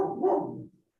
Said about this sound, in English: you can probably hear the dog barking in the background